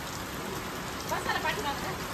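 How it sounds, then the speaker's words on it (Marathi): Heavy rain falls in a steady, dense hiss that drums on surfaces, loud and continuous, with a slightly busier patch partway through. "तो पण असा जोरात पाऊस आले"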